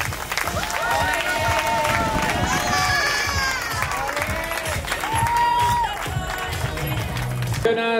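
Spectators at the finish of the Vuelta a Ibiza MTB 2022 mountain bike stage applaud and cheer for arriving riders, a steady crowd clapping with shouts and voices rising over it, fairly close and continuous.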